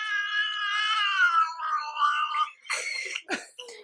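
Cat meowing and caterwauling close up, a long drawn-out wavering yowl followed by several shorter broken cries.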